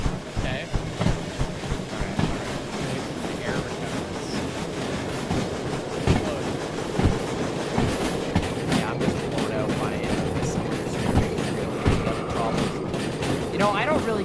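S282 steam locomotive in the Derail Valley video game, a continuous rumbling run with rhythmic rail clicks and clanks over a steady loud roar.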